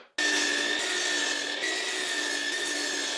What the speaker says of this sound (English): put the blade down, slide it back, it just ever so slightly rubs. We're good to go. We just cut the next one.